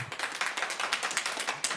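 Applause at a zoning board meeting: a quick patter of hand claps, fairly faint and steady, from an audience in a meeting room.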